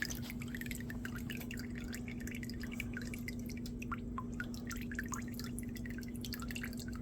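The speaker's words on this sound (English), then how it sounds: "Let it continue dripping." Excess oil drips steadily from a towel while beef tallow is rendered, a quick run of faint, closely spaced drips over a constant low hum.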